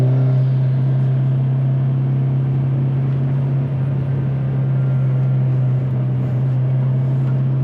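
A 450 WHP Subaru STI engine drones loud and steady under throttle and boost, a heavy constant rumble heard from inside the car on a mountain road, with no talk.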